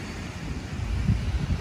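Wind rumbling over the microphone on a choppy day at Manila Bay's Dolomite Beach during a dragon boat competition, a steady low buffeting roar with a few stronger gusts toward the end, waves not distinctly audible.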